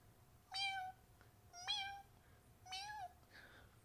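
Three high, thin meows come from a human voice imitating a tiny baby kitten. Each one is a short, clear, rising-then-falling cry heard alone over a quiet background.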